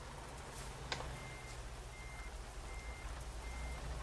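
Truck reversing alarm in American Truck Simulator, a steady series of evenly spaced high electronic beeps over the low rumble of an idling truck engine, moderately loud and uninterrupted.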